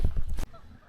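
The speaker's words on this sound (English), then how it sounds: "You can hear the birds just singing." Geese or ducks at a lake and duck pond give a few loud, close honking calls in quick succession, then fade to quieter outdoor ambience.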